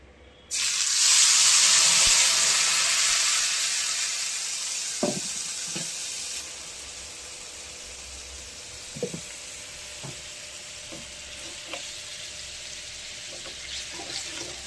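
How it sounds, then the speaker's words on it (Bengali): Spice paste hits hot oil in a wok and erupts into a loud, close sizzle that slowly settles to a steady fry, with a few light scrapes and clinks of stirring. "বন্ধুরা এই যে কড়াতে তেল গরম হয়ে গেছে, এবার মশলাটা আমি দিয়ে দিচ্ছি।"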